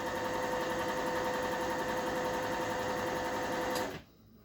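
A sewing machine stitches fabric for cheap garb in one fast, continuous mechanical whir that holds steady for about four seconds, then stops abruptly and leaves quiet room tone.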